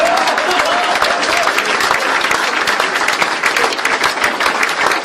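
An audience at Kumar Vishwas's poetry recital in the United States breaks into loud, sustained applause, with many hands clapping densely and evenly throughout.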